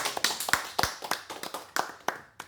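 A small group claps at a press conference in a Seoul party office, a brief ragged patter of a few hands heard up close, with no voices.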